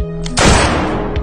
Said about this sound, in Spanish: pero ¿por qué la dispararon?